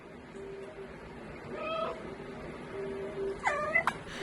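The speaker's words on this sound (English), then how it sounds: "Even its meows and cries are so real that it elicits a response from these onlookers." A real cat's recorded meows, used in a cat video game, sound twice, a short cry and then a longer wavering one, moderately close over a faint steady background hum.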